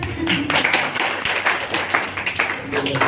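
Brief clapping from attendees at a traditional Ayurveda camp session, a short burst of hand claps over roughly three seconds with some room noise, moderately loud.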